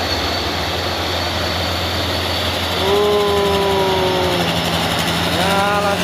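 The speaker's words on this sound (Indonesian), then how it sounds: "coba menyalip si trailer Hino" A Hino trailer truck climbing Bukit Kodok hill under a heavy load, its engine droning steadily and loud nearby, with a rising whine from about the midpoint as it labours uphill.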